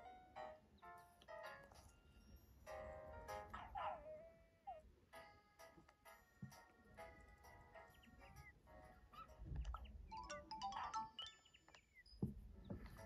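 Dog barking in the Nintendogs + Cats game during a village walk, short yips and barks scattered among game chimes and music, moderately loud, with other in-game effects.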